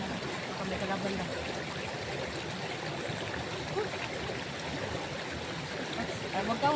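River water flows in a steady, broad rush that stays even and continuous throughout, with faint voices in the background.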